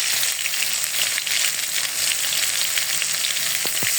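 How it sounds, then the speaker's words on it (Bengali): Cumin seeds, onion and garlic paste, turmeric and other spices fry in hot oil in a pan for a Bengali fish curry, giving a steady, loud, dense sizzle from start to finish with no voices. "এখন আমি তেল একটু দিয়ে মশলাগুলো দিয়ে দিব।"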